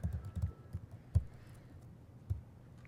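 Typing on a computer keyboard, a burst of quick irregular keystrokes followed by a few sparse, separate key presses, close and fairly quiet, with no voice.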